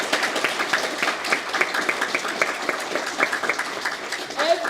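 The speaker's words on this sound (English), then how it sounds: "give a massive round of applause to you guys" A room full of people applauding students at a celebration for a student art project, steady dense clapping that continues throughout at moderate loudness with no break.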